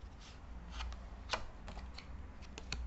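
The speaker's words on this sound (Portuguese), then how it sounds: "atirar uma carta do baralho para a outra mão" Playing cards snapped and flicked during a Hot Shot Cut card trick, one card shot from the deck into the other hand, giving several faint, quick riffling clicks and flutters with one sharper snap near the middle.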